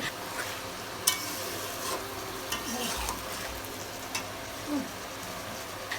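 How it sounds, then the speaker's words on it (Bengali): Fried potatoes are stirred with ginger-garlic paste in a pan, with a gentle sizzle under a few distinct scrapes and clinks of the spoon, plus a low thud partway through. "এ পর্যায়ে বেজে রাখা আলুগুলো দিয়ে একটু নেড়ে"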